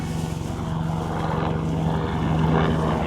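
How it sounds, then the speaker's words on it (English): Continuous low, throbbing rotor and engine drone of a helicopter, steady and fairly loud, with no voices. "Helicopter."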